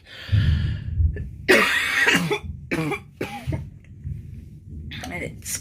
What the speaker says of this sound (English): because of that, I'm coughing